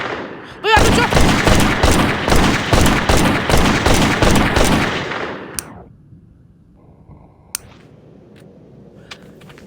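Gunfire in a video game set around a car race, a loud rapid burst of automatic shots that runs for several seconds, then cuts off into near quiet broken by a few faint isolated clicks.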